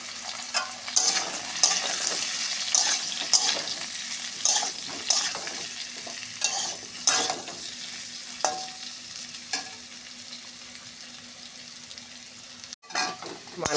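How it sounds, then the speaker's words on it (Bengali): Potato and elephant-foot yam frying in a pan, with a constant sizzle under repeated loud scraping stirs of the spatula, spaced irregularly throughout. "এবার মানকচুটা দিয়ে আর একটু ভালো করে ভেজে নেব"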